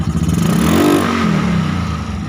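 A Yamaha Mio Novo 158cc scooter engine, running without an air cleaner, revs up sharply then falls back to a clattery idle, close and loud.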